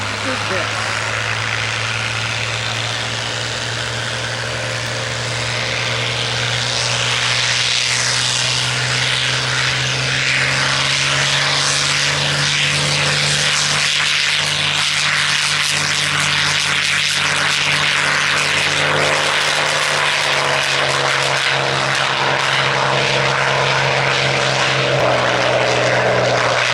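A steady, loud P-51 propeller aircraft engine drones throughout, with a deep rumbling hum that swells slightly partway through.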